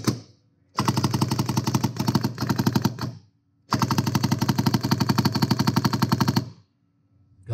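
Rapid bursts from a Dye Rise CZR paintball marker, two strings of fast, evenly spaced sharp pops separated by a short pause, loud and close with no talking.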